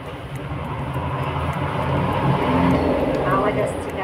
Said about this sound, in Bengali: আওয়াজ আসছে গাড়ির।